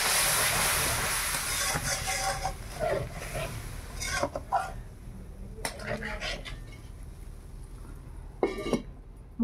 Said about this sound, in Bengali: এবার একটু জল দিয়ে দিই।